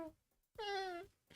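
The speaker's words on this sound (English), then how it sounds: "Cat meows." A single drawn-out cat meow, clear and close, rising then falling over about half a second, with quiet pauses before it and a faint voice at the very end.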